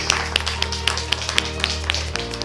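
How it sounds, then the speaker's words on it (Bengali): Sharp, regularly spaced hand claps ring out about ten times over a sustained musical drone on a studio reality show set, crisp and prominent. "হাততালি"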